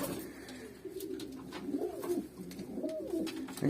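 Manakh breed pigeons coo nearby in low, throaty, rolling calls, several overlapping phrases with faint rustling in the background.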